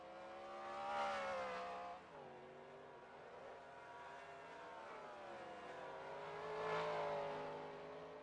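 Race cars in a racing video game, engines droning and shifting pitch as they rev and accelerate, a steady moderate mechanical whine with rising and falling tones, no talk.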